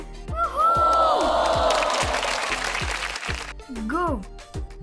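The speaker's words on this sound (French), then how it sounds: "Et puis applaudissez bien fort Clara et son cheval Zéphyr." An audience cheers and shouts for the rider Clara and her horse Zéphyr at a show-jumping competition, a lively burst of whoops and crowd noise with a loud announcer's voice over it and some clapping.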